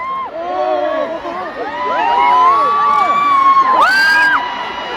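A large crowd at a K-pop concert in Korea screams and cheers loudly and continuously. High-pitched shrieks and whoops rise and fall over a dense wall of yelling close around the listener.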